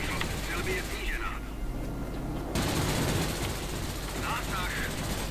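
Machine gun fire from a Bf 110 aircraft in the video game World of Warplanes, loud rapid bursts over steady engine drone, with a brief break and game voice lines heard between bursts.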